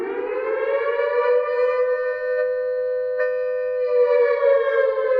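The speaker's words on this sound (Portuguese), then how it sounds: "o som da sirene propositalmente muda." A civil defense siren wails steadily for the whole span, its tone deliberately shifting in pitch as it rises and settles, loud and continuous with no voices.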